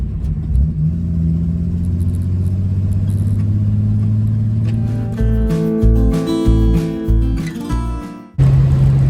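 A wrecked, rebuilt Holden Torana drives along an open road, its engine droning loud and close, with the pitch shifting as it changes speed midway and an abrupt change in tone near the end.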